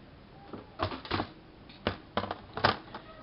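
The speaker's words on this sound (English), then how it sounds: "so I just take my trimmer" A paper trimmer slices a leftover strip from a name badge insert, giving several short dry clicks and blade swipes in small bursts, close and fairly quiet.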